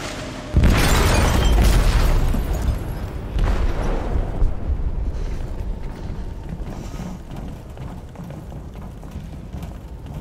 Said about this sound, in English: Detonated an explosive in the hold. The ship is sinking, sir.